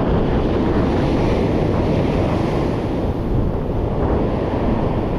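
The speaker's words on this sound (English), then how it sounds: "these waves are so big right now" Big ocean waves pounding a rocky shore on a rough autumn day, a continuous loud roar of surf with heavy wind buffeting the microphone throughout.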